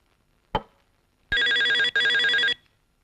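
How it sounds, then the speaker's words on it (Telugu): An old-style telephone bell rings in two loud, close bursts of rapid metallic trilling, with a brief thud just before. "వేళాపాడా లేకుండా ఫోన్ చేస్తూ ఉంటారు."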